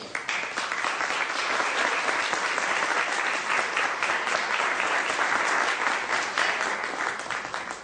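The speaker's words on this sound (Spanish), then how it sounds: "Recibámosla con un aplauso." Sustained audience applause at an education conference, a dense steady clatter of many hands clapping at once, loud and continuous throughout.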